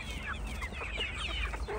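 Several chickens cluck and chatter close by in quick, irregular bursts over a low background rumble.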